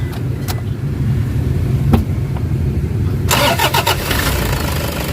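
A Toyota HiAce van with low power and a delayed throttle cranks over with a few sharp clicks, then the engine catches and settles into a rough, loud idle up close, with no talking.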